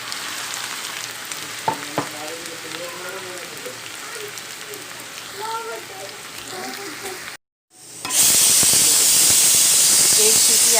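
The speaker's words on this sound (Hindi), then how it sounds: "एक सीटी आ गई है कुकर की," A kitchen pressure cooker on the stove suddenly lets out a loud, sharp, sustained steam whistle near the end. Before it, onions with mustard seeds fry with a soft, steady sizzle.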